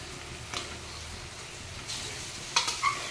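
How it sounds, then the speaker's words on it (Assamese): Meat sizzles steadily in a hot pan, with a few scrapes and stirring clatters of a utensil against the pan, close and fairly quiet. "এতিয়া মই মাংসখিনি দি ল'ম।"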